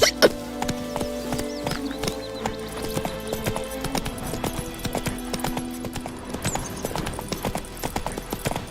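Horse hooves clip-clopping at a gallop in The Witcher 3, a steady rapid rhythm of hoof beats over music-like tones, with a brief whinny early on and no talk.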